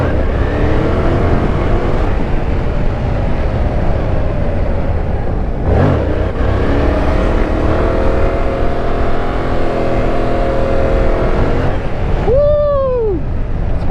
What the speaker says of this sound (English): Sport bike, bro, coming in hot.